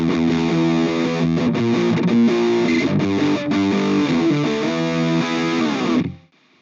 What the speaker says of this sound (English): So metal style sound here now. That is with a tread plate style amp and a 4x12.